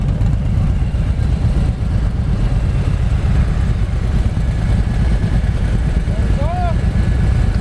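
Several motorcycle engines idle together during a lock-and-lean riding class, a steady loud low rumble throughout, with a voice talking over it and a short whistle-like tone near the end.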